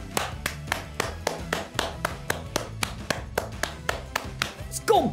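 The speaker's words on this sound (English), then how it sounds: "Everybody clap." Rhythmic clapping repeats in sharp, evenly spaced claps, about three per second, over faint background sound, with a brief voice at the end.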